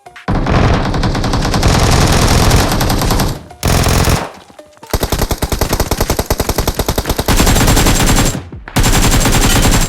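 A Vector submachine gun in PUBG Mobile fires loud, rapid automatic bursts, several long strings of close-up shots separated by brief pauses, with no talking.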